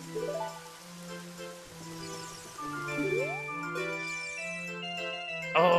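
Rain storm called up by the Song of Storms in the game Ocarina of Time, a steady soft patter of rain under chiming, tinkling game music, with a brighter flourish near the end.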